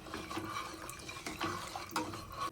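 Tamarind-free mango sambar broth bubbles in a pot, a continuous close watery burble with a few louder pops and splashes and no talking.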